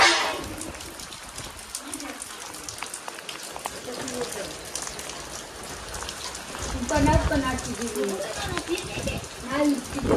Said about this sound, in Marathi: जोरात पाऊस